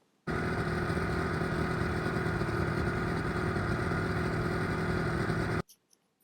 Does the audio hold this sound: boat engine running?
yes